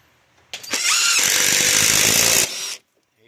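A cordless impact driver with a star bit sinks a screw into wood for a bench swing, one loud close burst of whirring and rapid hammering lasting about two seconds, then stopping.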